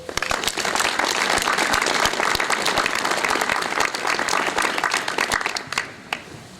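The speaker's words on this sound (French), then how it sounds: "Je crois qu'il faut aussi applaudir le département des Landes." A crowd at a school inauguration speech applauds the Landes department, loud dense clapping sustained for several seconds before thinning out into a few scattered final claps.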